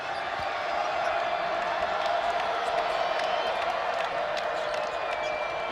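Large crowd roaring and cheering in a college basketball arena during a Utah State versus Wyoming men's game, a loud steady wall of noise with ball bounces and sneaker squeaks mixed in throughout.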